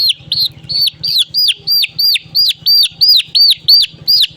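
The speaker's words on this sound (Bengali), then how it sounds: "এই বাচ্চাটা দেখেন বন্ধুরা" Poultry chicks peep loudly and close by in a steady, rapid series of about a dozen evenly spaced high chirps, with no talking.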